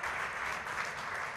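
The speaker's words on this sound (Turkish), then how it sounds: "Bizim evin kızlarından Burcu'yu alkışlıyoruz." Studio audience applause on a Turkish daytime TV show, a dense, steady wash of many hands clapping at even loudness throughout, with no pauses.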